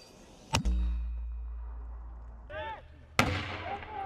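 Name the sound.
artillery gun firing during training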